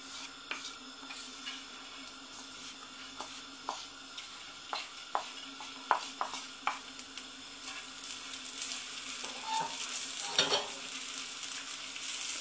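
Quinoa grains frying in hot oil, a soft sizzle with scattered sharp pops and crackles that grow busier and louder toward the end, heard close with no talking.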